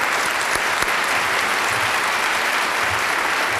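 Sustained, dense applause from an audience honoring graduating seniors at a 2012 senior recognition ceremony; many hands clapping steadily and evenly, close and full, with no talking over it.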